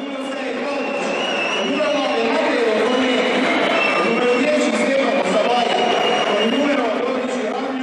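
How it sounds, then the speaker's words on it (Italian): Home basketball crowd at an arena whistling and jeering at the visiting team as it is introduced, a loud continuous mass of whistles and crowd roar filling the hall with no pause. "Solitamente si inizia con la squadra ospite, che immancabilmente viene fischiata dalla tifoseria locale"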